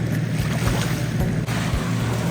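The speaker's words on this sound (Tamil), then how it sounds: "இப்போ நல்ல இங்கே கொஞ்சம் தண்ணி நல்ல கரையோட வருகுது" Water washes up on the shore at Stanley Park in Vancouver, a loud, close rushing surge with rhythmic swells and gusty wind buffeting the microphone.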